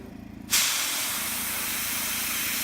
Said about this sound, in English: And then I'm going to give this a spray, and then I'll do the same thing to the other side.